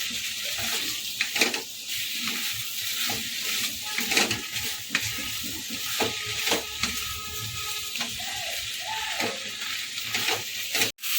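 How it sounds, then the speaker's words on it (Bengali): Soft fried eggplant and onion greens are stirred in an oil-filled pan, a continuous close sizzle broken by repeated scraping strokes of a spatula, with no voices. "দু তিন মিনিট আমি এরকম নাড়াচাড়া করতে থাকবো"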